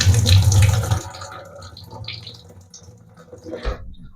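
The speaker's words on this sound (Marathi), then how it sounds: "आता मटकीतले पाणी आपण काढून घेऊ।" Soaking water drains off swollen moth beans, a close, splashing pour that stops after about a second, followed by fainter trickles and drips.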